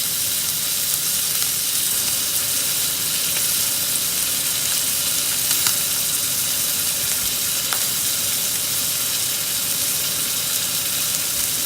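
Steak sizzles steadily as it sears in a hot pan after sous vide cooking, a dense continuous crackling hiss with occasional sharper pops, close by and with no talking.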